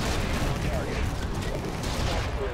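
Rockets firing in the video game Infested Planet, a dense, continuous roar of explosive bursts filling the mix at steady loudness, with a voice talking faintly underneath.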